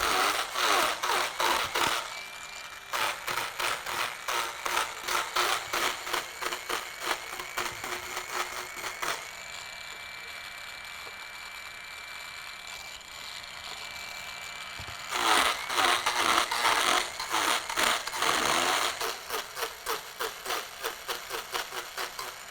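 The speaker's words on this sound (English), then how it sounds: "I break out the grinders and do some serious grinding work" Handheld power grinders work over a lathe-turned wooden piece, a steady loud abrasive whine with bursts of rough chatter that ease into a smoother, quieter hum mid-clip before the heavy grinding resumes.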